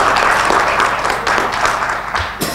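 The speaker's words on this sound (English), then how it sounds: "Big applause." A conference audience breaks into loud, sustained applause after a health research presentation, a dense continuous patter of many clapping hands filling the room.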